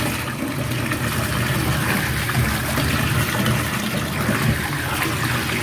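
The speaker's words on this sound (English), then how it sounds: "Let's turn the water on." Tap water runs steadily into a bathtub holding a chunky bath bomb, a continuous close rushing splash with no voices over it.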